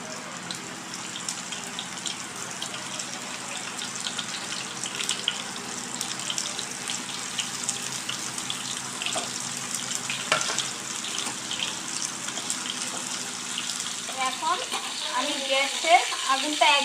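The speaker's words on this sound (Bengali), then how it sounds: "হালকা ডিমে ঢেকে ঢেকে এগুলো ভাজবো, ভিতরে হবে।" Dried hilsa fish fritters coated in light egg batter fry in hot oil, giving a steady close sizzle and crackle throughout, with faint kitchen clatter near the end.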